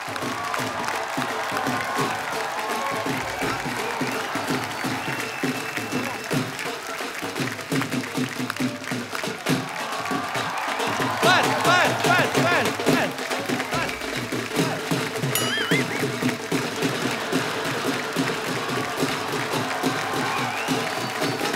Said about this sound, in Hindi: उसके लिए पहले जोरदार तालियां।